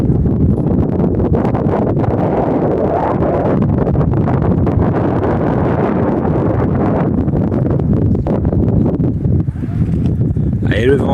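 Strong wind buffeting a microphone outdoors in a small town in southern France, a loud, continuous low roar for the whole stretch, with a voice faintly under it.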